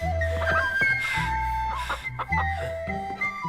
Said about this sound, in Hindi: ये मुर्गा सिर्फ मुर्गा नहीं है, ये मुर्गा पहाड़ों का राजा है।